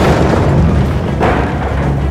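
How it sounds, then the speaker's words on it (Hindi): A tank blown up in a Battlefield match, a loud, dense booming roar with a second surge of blast energy midway, rumbling heavily and filling the whole moment without any talking. "मैंने उनका टैंक उड़ा दिया है"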